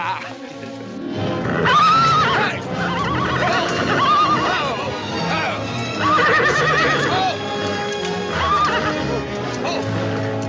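A horse neighs loudly several times in long, shrill whinnies, with hooves clopping and voices talking in the background, in a scene from a 1940 Hollywood film.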